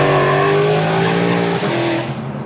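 A Hennessey Venom 1200 Shelby GT500 roars loudly up close, its engine note climbing in a sustained rev before cutting off sharply near the end.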